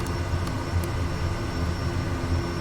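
Kodiak 100 turboprop engine at full throttle for takeoff in Microsoft Flight Simulator, a steady loud droning roar with a constant whine, unbroken throughout.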